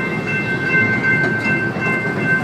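A small amusement park train at Six Flags rolls steadily along rails with a constant rumble and a faint high whine, loud and close, with no talking.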